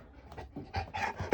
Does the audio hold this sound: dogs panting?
yes